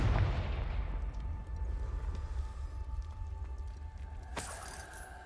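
A Confringo blasting spell explodes in Hogwarts Legacy with a heavy, booming low-end blast that rolls out over several seconds, followed by a sharp crack near the end, with no voices.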